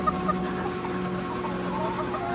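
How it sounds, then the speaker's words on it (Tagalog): Pet chickens and fighting roosters clucking close by on a farm in San Mateo, a busy overlapping flock chatter with repeated short clucks over a steady hum. "Sinalubong tayo ng mga alaga nating manok"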